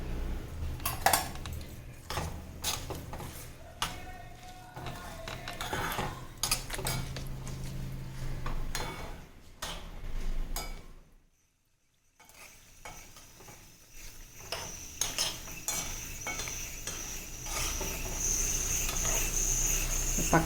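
Mustard seeds, curry leaves and garlic are being tempered in hot oil for a tomato pickle. A spoon scrapes and clinks against the pan under a steady sizzle, with a brief quiet pause midway.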